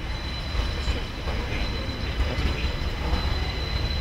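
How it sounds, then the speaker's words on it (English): A Pacer train rolls through the Lincoln Central level crossing, its steady rumble and rail noise continuous and fairly close, with a faint high squeal above. "Here comes our pacer."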